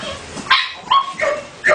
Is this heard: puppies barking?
yes